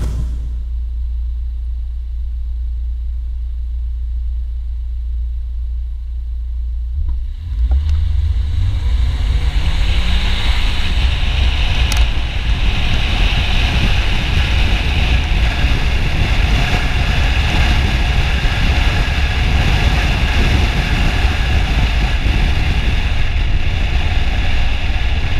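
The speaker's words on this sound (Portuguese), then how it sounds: "E nós vamos acelerar o carro, obviamente, numa área bastante deserta, sem interferência de pessoas, ainda que nós estejamos numa subida" A Fiat Argo and a VW Polo accelerating side by side uphill on a deserted road. A loud engine roar builds sharply after a steady idle and is joined by heavy rushing wind noise.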